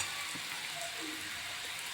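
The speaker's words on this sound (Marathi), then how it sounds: "आधी बटाटे आणि वाटाणे ते मिक्स होते तेच व्यवस्थित परतून घेते मी" Potatoes and peas sauté with spices in a pan, crackling in a continuous close sizzle with faint stirring underneath.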